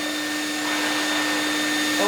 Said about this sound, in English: we're going to air dry it with warm air from the vacuum